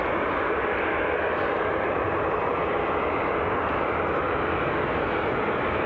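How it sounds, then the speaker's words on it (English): An airplane taking off at Edinburgh Airport, a loud, steady broadband engine roar with no break and no speech. "First takeoff of the show."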